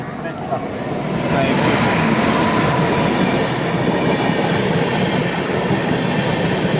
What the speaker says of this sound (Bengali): টাটানগরে দেখতে পাচ্ছ সাইড দিয়ে ট্রেন যাচ্ছে